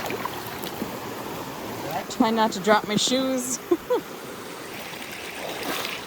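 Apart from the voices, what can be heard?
hiker wading across a cold river on the Long Trail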